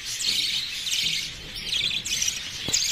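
Caged budgerigars chirp in quick, bright bursts, several birds twittering close by in overlapping spurts with short pauses between, no voices present.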